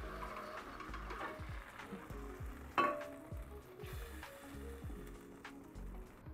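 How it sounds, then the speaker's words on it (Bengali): Pomfret fish frying in a pan with masala, a steady close sizzle and crackle of hot oil with small spits and one brief louder clatter partway through. "মাছটা পুরো ফ্রাই করা হয়ে গেছে, আমি এবার এটা বার করে নিচ্ছি"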